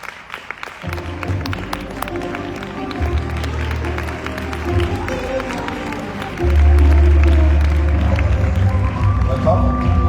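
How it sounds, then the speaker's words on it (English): A crowd claps and cheers, building louder partway through, with music and a voice over the applause in a large hall. "let's have a loud round of applause"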